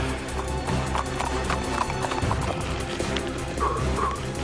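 Steady clip-clop of a horse's hooves over a constant low rumble of water, with a brief whinny-like sound near the end.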